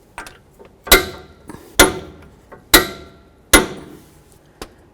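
A torque wrench tightens the front axle nut on a 2007–2014 Ford Edge to 258 foot-pounds, giving four sharp, evenly spaced metallic clicks up close, each with a short ringing tail, then a fainter fifth click.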